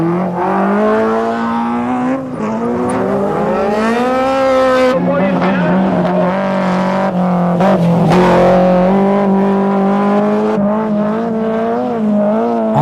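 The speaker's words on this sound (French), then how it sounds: "La rutilante BMW conduite par Knapik." BMW rallycross car racing in the 1993 French rallycross championship, its engine droning and rising in pitch as it accelerates and shifts, loud and steady throughout.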